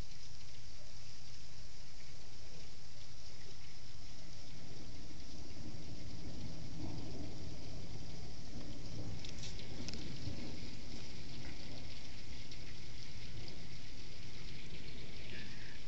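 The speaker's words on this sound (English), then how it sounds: "it's just a steady rain right now" Steady, even rain hisses without pause, a soft continuous wash of drops with no voices.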